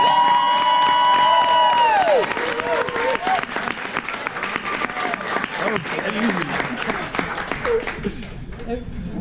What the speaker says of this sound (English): Please put your hands together for David!